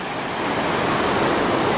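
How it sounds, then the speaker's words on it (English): A rushing river churns into a whirlpool below, a steady, loud broadband roar of moving water that holds constant with no breaks and no voices. "as you can tell by this river, if we jump in, we're immediately gonna get sucked into this whirlpool"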